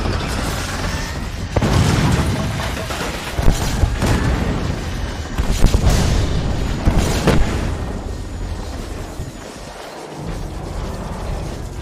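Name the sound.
artillery cannon firing in video game Iron Brigade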